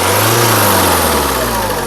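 Renault Duster RXL Optional 2015/16 engine revving up close, a steady loud mid-pitched drone with rising engine tone, no talk over it.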